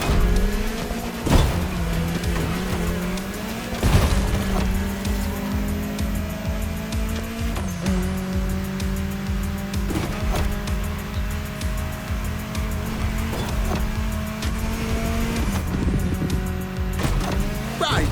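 A car cruising through Hawaii's state capital in The Crew Motorfest, its engine droning steadily with rising and falling revs across gear shifts, up close and continuous, with faint tire noise and no talk.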